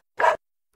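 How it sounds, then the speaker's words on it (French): A single short dog bark or yap, close and fairly loud, lasting about a fifth of a second and then silence. "le chien refuse et continue de japper et"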